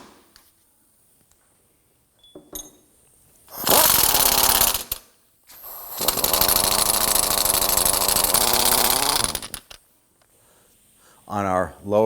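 Impact wrench removing a 15mm rear suspension bolt on a 2003-2014 Volvo XC90 3.2L L6, sounding in two loud, close rattling bursts of about one and three and a half seconds, separated by short pauses, with quiet moments around them.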